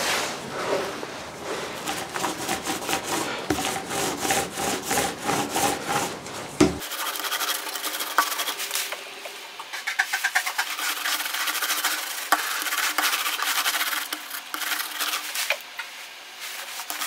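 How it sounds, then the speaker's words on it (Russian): A paint roller works over welded metal profile-tube shelving, making close, rhythmic rubbing strokes in repeated back-and-forth passes; the sound turns thinner and lighter partway through as the strokes continue. "Сейчас берем валик и начинаем красить полки."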